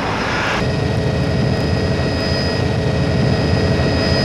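A steady, loud Tokyo Metropolitan Police helicopter drone fills the whole stretch, a continuous rotor-like roar with a brief burst of broadband noise at the start.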